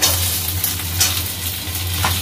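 Chopped tomatoes hit hot oil in a pan over softened fried onion, a steady close sizzle with a low hum running beneath it.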